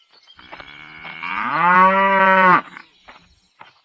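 A cow gives one long, loud, close moo that rises and then cuts off, with faint farmyard sounds before and after in a cartoon village scene.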